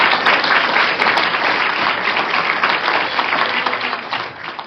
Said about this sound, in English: let's give a round of applause for Quincy